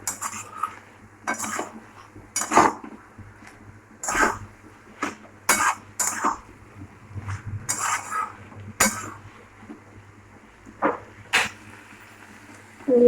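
A spoon stirs a pot of boiled potato vegetable curry in intermittent bursts, with sharp metal clinks and scrapes separated by quiet pauses. No one speaks.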